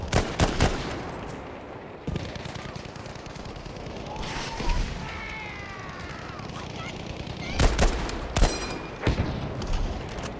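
Hip-fired gunfire in the Pacific setting of the video game Battlefield V, with scattered sharp shots and short bursts over busy background battle noise, the loudest cracks clustered toward the end.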